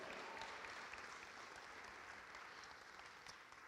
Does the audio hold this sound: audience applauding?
yes